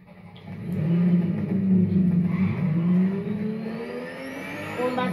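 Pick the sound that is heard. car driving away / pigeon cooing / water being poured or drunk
car driving away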